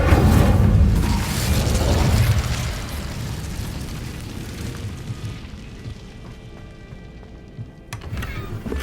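The Incendio fire spell in Hogwarts Legacy bursts out as a loud, roaring whoosh that starts strong and slowly fades into a rumbling crackle over several seconds.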